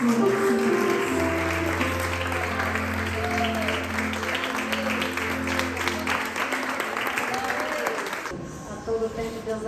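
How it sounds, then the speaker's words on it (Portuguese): Church congregation applauding together, a steady wash of clapping mixed with sustained musical tones and a voice over the top, fading out abruptly near the end. "Aplauda o Senhor Jesus."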